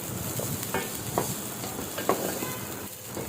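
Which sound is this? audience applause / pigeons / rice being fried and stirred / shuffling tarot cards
rice being fried and stirred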